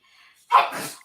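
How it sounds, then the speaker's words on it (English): A single sharp sneeze bursts out after a brief quiet intake of breath, close and loud, trailing off quickly. "there's a sneeze coming"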